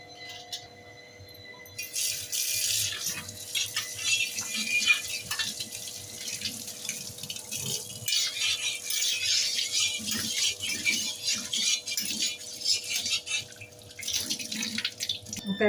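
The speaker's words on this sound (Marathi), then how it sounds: "आता याला आपण स्वच्छ धुवून घेऊया." Running tap water pours over a new iron tawa being rinsed clean in a sink, a steady close splashing gush with small rattles and drips as the pan is turned under the stream, no voices.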